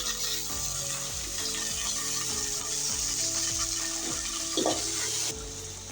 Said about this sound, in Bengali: তার চালগুলো আমি এখন দিয়ে দিচ্ছি